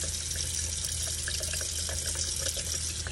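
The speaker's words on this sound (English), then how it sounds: "I can rinse this off" Tap water runs steadily over a makeup brush as it is rinsed under the faucet, giving a continuous, close, even splashing hiss with no talk.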